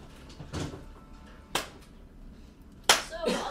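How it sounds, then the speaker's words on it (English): Three sharp hand claps ring out, spaced apart, each followed by a brief room echo, with faint background noise between them. "Just hear me clap."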